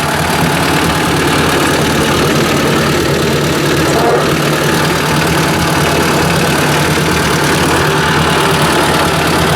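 A Ford 800 tractor engine runs steadily while the tractor is driven, a loud, continuous close-up rumble with a rough knocking edge and constant hiss on top, no talk over it.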